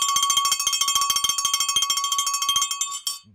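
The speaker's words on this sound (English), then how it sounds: "we might need to ring the bell again" A bicycle-style bell rung rapidly and repeatedly to celebrate a 5K running personal record, bright metallic dings in a fast continuous string that slows and stops near the end, loud and close, no talking.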